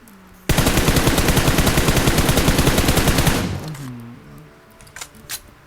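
A long burst of rapid automatic gunfire in a shooter video game blasts steadily for about three seconds, then cuts off to quieter game sounds and faint tones.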